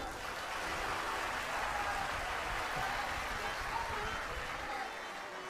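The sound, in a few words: audience applauding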